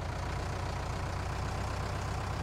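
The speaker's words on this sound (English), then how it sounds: "This tractor does struggle sometimes." Farming Simulator 19 tractor labouring uphill, its engine a steady, close, low rumbling drone with a rhythmic throb, heard alone.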